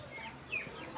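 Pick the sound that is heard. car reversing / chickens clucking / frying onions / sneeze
chickens clucking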